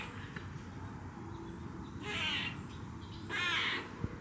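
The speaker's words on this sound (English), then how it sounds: "That's a squirrel. That's not a bird." Loud, harsh chattering from a squirrel in a backyard, two angry bursts of raspy scolding calls in a row, each about a second long, standing out over steady outdoor background noise.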